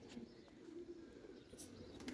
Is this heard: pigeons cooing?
yes